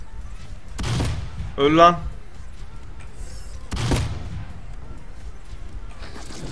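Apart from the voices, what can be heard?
gunfire in a video game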